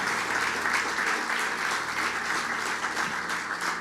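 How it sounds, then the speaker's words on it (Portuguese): A large church congregation applauding continuously, dense sustained clapping filling the space at steady loudness. "Vamos aplaudir o Senhor Jesus"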